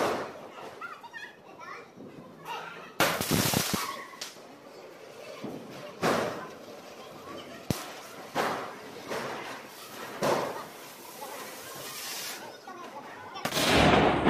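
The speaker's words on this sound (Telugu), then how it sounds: "దీపావళి అంటేనే క్రాకర్స్ కాల్చడం కదా ఇంకెందుకు ఆలస్యం క్రాకర్స్ కాల్చడానికి వెళ్ళిపోదాం" Diwali firecrackers burst in a series of sharp, loud bangs spaced a second or two apart, with children chattering and calling in between.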